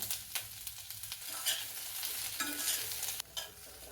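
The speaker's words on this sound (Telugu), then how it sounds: "వీటిని వేసి కొంచెం ట్రాన్స్పరెంట్ అయ్యే వరకు వేయించుకుందాం" Large onion pieces frying in oil, a close crackling sizzle broken by scraping stirs and clinks from a utensil in the pan, busy and uneven throughout.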